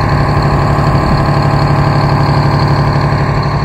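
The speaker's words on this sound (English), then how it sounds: "show them that generator" A generator drones steadily and loudly throughout, a constant low mechanical hum with engine-like vibration and no pauses or voices.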